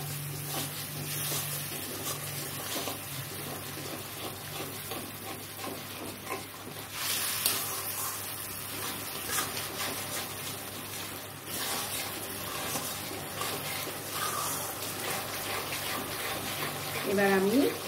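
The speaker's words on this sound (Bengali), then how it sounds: "দেখো এবার একটু আমি এর মধ্যে দিয়ে দিচ্ছি জল।" Water poured into a pan of shrimp and jackfruit curry masala being cooked, a steady splashing pour with a soft sizzle running throughout, with a voice talking over it.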